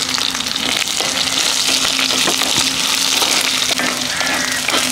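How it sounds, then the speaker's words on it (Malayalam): Grated coconut and chopped shallots roasting in a pan for Kerala-style kadala curry, a loud, dense continuous sizzle heard close up with faint stirring scrapes and no talk. "ഉള്ളിയും തേങ്ങയൊക്കെ നല്ല മൂത്ത് വരുന്ന ആ സമയത്ത്"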